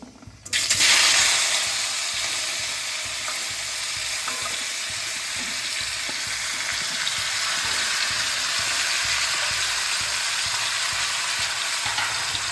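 Jujubes frying in hot oil with dried red chillies and five-spice for a sweet-sour Bengali pickle, a loud steady sizzle that flares up as the fruit goes in and holds close and continuous throughout, with no talking.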